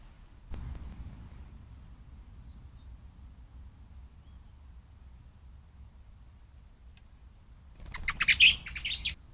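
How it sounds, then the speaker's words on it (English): Bird chirps and calls with a burst of wing flapping as a female blackbird chases a coal tit in a pine wood in December, a brief thump early on, then a busy flurry of calls near the end. "The 20 seconds began with a female blackbird chasing off a coal tit."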